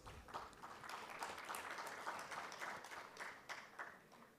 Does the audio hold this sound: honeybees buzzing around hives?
no